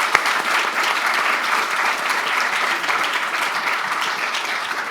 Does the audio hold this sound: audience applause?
yes